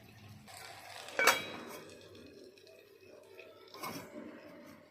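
A lid is set down on a cooking pot of greens, giving one short metallic clink near the start, followed by quieter kitchen clatter and a faint second knock later on.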